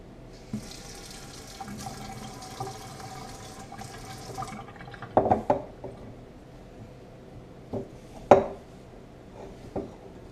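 A kitchen tap runs for several seconds as water is added to pie crust dough made of flour and butter, followed by a few clinks of dishes and utensils nearby.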